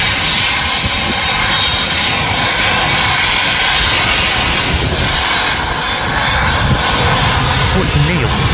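Jet engines of an airliner, a 787-8 Dreamliner, roar steadily and loudly while it taxis at Manchester Airport, a dense continuous rumble that holds from start to end with no break.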